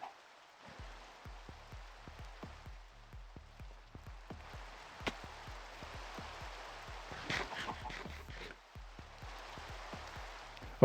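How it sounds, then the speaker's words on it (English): Rain falls in the video game Minecraft as a soft, steady hiss of drops, faint and continuous, with a regular low pattering pulse underneath. "Of course, it's raining,"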